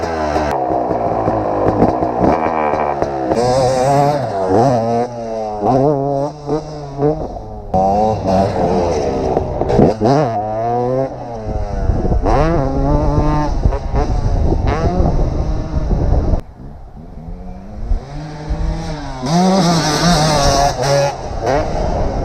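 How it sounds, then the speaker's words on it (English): A dirt bike engine revs and shifts while riding a concrete track. It is loud and close, with the pitch rising and falling continuously through repeated throttle pulls. "Let's go dirt bike."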